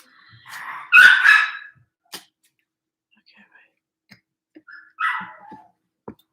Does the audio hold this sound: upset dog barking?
yes